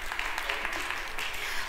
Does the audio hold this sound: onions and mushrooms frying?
no